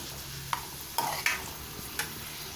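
Thinly sliced mushrooms are stirred and fried in butter in a pan, with a few spatula scrapes and clicks over a soft, steady sizzle, fairly quiet and close.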